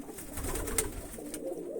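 Pet pigeons, obtained from a friend, coo softly and low in a continuous murmur, fairly close, with no talking over them.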